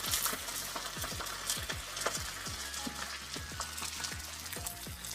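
Onion, green chilli and curry leaves frying in a pan for a tomato onion curry, giving a soft, patter-like crackle with scattered pops and light stirring taps, fairly quiet and continuous.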